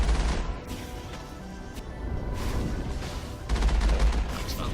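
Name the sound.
vehicle cannon firing in video game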